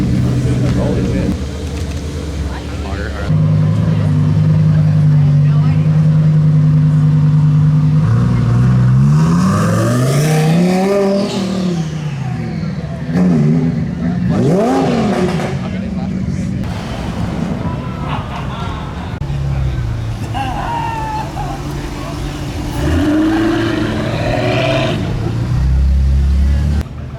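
Nissan GT-R cars drive past during car week, with loud engines rising and falling as they approach and pass, several distinct revving sweeps in turn. People talk excitedly over the noise.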